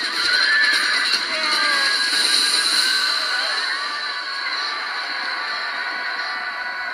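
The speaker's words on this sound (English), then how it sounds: "Here we're launching another cavalry strike on his infantry." Cavalry horses charging in the battle game Rome Total War, with repeated neighs and whinnies over a thick rumbling battle din that fades slightly toward the end.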